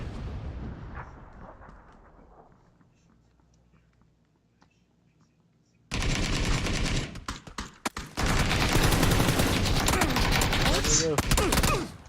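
Gunfire in PlayerUnknown's Battlegrounds: after a quiet stretch, loud dense bursts of rapid shots erupt and continue in heavy, overlapping volleys close by.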